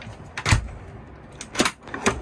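Drawer in a 2023 nuCamp Barefoot travel trailer sliding and knocking shut, three short close wooden thumps spread over about two seconds in a quiet interior.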